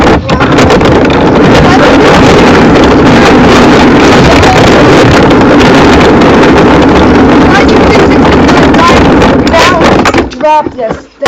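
A scooter ride, dominated by loud, buffeting wind noise over the microphone and a continuous engine drone, sustained at high volume before dropping away abruptly at the end, with a voice faintly present.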